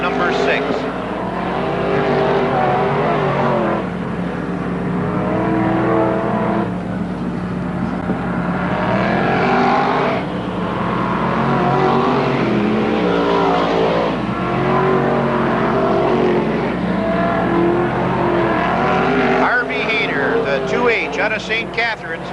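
Modified race cars lapping the oval at Merrittville Speedway in 1988, a continuous roar of engines rising and falling as cars pass, heard under steady commentary from an announcer.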